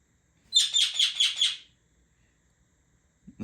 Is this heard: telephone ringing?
no